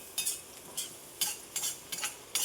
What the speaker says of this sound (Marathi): आता कांदा आपल्याला गोल्डन ब्राऊन होईपर्यंत थांबायचा आहे। आपल्याला ह्याला मध्ये मध्ये हलवत राहायचं आहे।